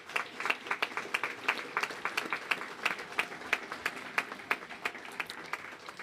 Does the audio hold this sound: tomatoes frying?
no